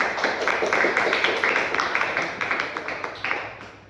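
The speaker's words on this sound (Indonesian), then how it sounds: "Ya, bagus, tepuk tangan dulu buat teman-teman." A classroom of students claps for their classmates in a brief round of applause, steady overlapping hand claps that fade toward the end.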